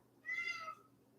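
A house cat gives a single clear meow, fairly close and distinct, in an otherwise quiet room.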